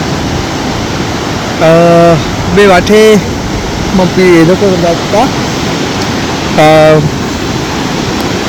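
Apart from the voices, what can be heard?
river full of floodwater rushing past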